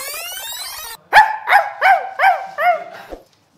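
A person imitates a dog with five loud, evenly spaced barks, each a short voiced yelp with a falling pitch, following a brief bright melodic sound.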